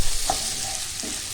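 Butter stirred in a hot pan for tantuni, giving a steady low sizzle with a couple of brief scraping strokes of the spoon, close and moderately loud with no talking.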